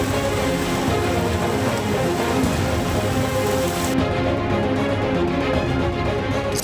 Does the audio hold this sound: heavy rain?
yes